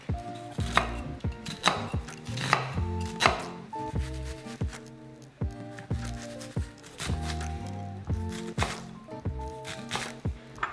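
Onion is diced with a knife on a cutting board, giving rapid, close, sharp chopping knocks in bursts, loud and rhythmic with short pauses between runs.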